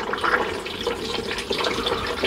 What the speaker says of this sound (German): Und jetzt läuft auch entsprechend das Wasser ab.